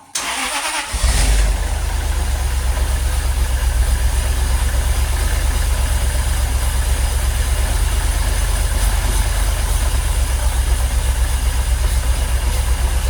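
A Jaguar XKR engine cranks briefly and catches, then settles into a loud, steady, close running idle with a constant low rumble that continues evenly throughout.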